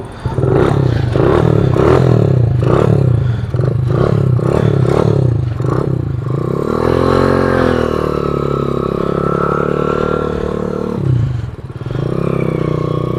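A motorcycle engine fitted to a modified BMX bike runs close and loud, a rough rattling idle with clattering pulses that rises into a sustained revving drone, with mechanical scraping mixed in.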